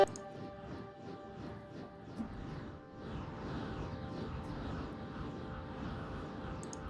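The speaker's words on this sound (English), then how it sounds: "There's a little synth waveform." A raw synth waveform from the Airwave V3 plugin with its filters switched off, a granular texture built from explosion noise, plays as a steady, dense, buzzing drone with rapid pulsing grains at even loudness throughout, no voices.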